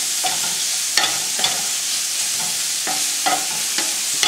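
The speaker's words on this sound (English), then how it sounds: "what I'm trying to do is scrape up some of those little brown bits in there." Brown bits are scraped in a hot pan for chicken marsala: a steady sizzle and fry runs throughout, broken by several sharp scraping and stirring strokes of the utensil against the pan.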